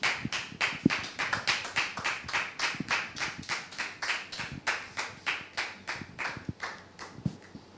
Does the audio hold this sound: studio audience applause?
yes